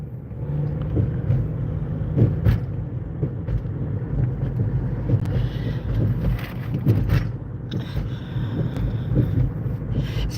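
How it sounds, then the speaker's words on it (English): Road traffic rolls past steadily on a morning street with construction nearby, a continuous low rumble of passing vehicles with occasional louder swells, no talk over it. "I'm watching the traffic this morning, and I got distracted by the traffic."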